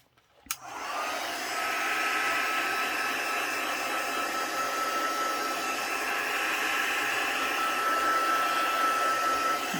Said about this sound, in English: And then I'll just blast it with the heat gun again.